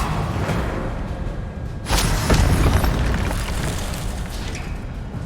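An Incendio fire spell is cast in Hogwarts Legacy, a loud whooshing burst of flame rising into a dense roar over continuous game ambience, with no talk.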